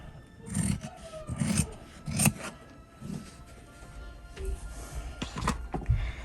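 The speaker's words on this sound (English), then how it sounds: "So now go cut this out and leave about like 1/4 of an inch." Scissors cut through fabric for a fabric basket, heard as a series of soft, close crunching snips spaced roughly every half second to a second, fairly quiet with no voices.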